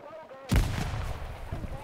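Gunfire erupts in the video game Hell Let Loose, a sudden heavy burst followed by rattling, echoing shots and battlefield noise, with a voice talking faintly underneath.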